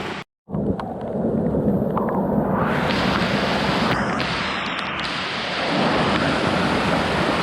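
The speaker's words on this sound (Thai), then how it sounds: "บ่ได้ยินยังฝนตก" Heavy rain pours steadily in a deep Lao jungle, a dense, continuous roar of downpour that briefly cuts out near the start, then stays loud and unbroken with scattered sharper drips and splashes.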